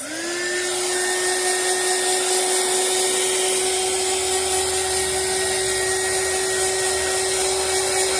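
Hair dryer blowing on cake frosting, spinning up then holding a loud, steady whine with a constant rushing airflow, close by and uninterrupted by talk.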